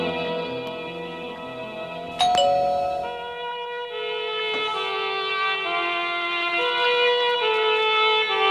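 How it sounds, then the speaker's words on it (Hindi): An electronic doorbell chimes in a home, a ringing tone with bright sustained harmonics, then struck again a couple of seconds later so the tones overlap and ring on loudly. "अरे कौन इतनी जोर से घंटी बजा रहा है सुबह सुबह?"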